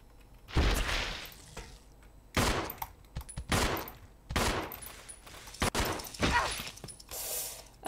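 Gunfire in the video game Resident Evil 0, several loud separate bursts of shots and echoing impacts spread across the span, close and unaccompanied by talk.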